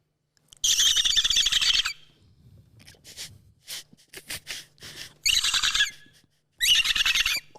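A person imitates a dolphin with three bursts of high, squeaky clicking chatter. Quieter clicks and mouth sounds fall between the bursts, and each burst lasts about a second.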